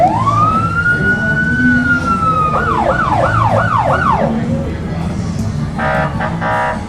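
A Georgia State Police car siren at a parade wails up and holds, then switches to a rapid yelping warble, followed by brief electronic chirps, loud and passing nearby amid crowd noise.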